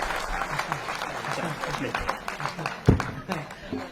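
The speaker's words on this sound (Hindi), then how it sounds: "एक बार पूरा सदन जोरदार ताली बजाकर बताइए" An audience in a comedy show hall applauds in a dense, continuous wash of clapping, with a brief louder thump partway through.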